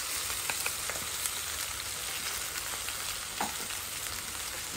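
Food frying in a pan is stirred, giving a continuous close sizzle with light scraping and clicking of the utensil against the pan, with no talk.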